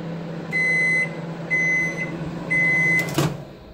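A microwave oven beeps three times at a steady one-second rhythm, each tone held about half a second, after heating smoking pellets; a brief clatter follows the last beep.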